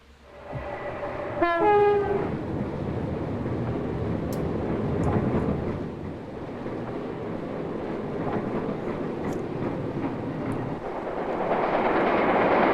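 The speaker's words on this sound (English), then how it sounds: "Oh lord, that train's going fast." A train roars past at speed, its horn blaring briefly at first, then a steady, loud rush of wheels and rattling cars continues throughout.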